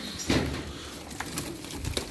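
Çorum Çıplağı tumbler pigeons coo softly and faintly in a quiet loft, with a few low, brief murmuring calls scattered across the moment.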